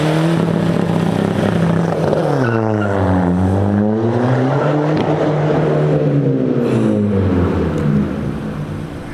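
A 300+ bhp Skoda Fabia vRS roars as it accelerates hard, its engine note dipping then climbing steadily in pitch with a gritty, tire-scrubbing edge, loud and close throughout.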